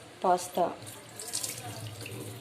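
Cold tap water runs steadily over cooked pasta to halt carryover cooking, a continuous faint splashing flow in a kitchen sink after two brief spoken words.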